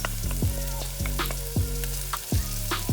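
Shallots and jalapenos frying in a pan for a chicken and shrimp pesto pasta, a close, steady sizzle with repeated low clanks of utensil against pan at a regular pace.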